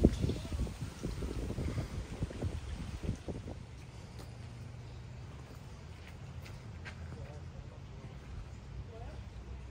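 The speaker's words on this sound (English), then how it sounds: "that wind is so welcomed" Wind gusting across an outdoor metro park, a rumbling, buffeting rush against the microphone that is strongest at first and then settles into a steadier low roar, with a voice talking over it.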